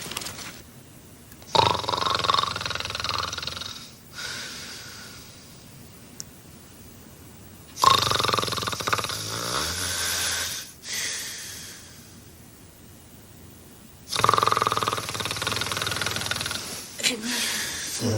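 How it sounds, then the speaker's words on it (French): A person snoring while drifting off to sleep indoors, with several long rasping breath bursts repeating at slow intervals, fairly close and alone. "Tu ronfles."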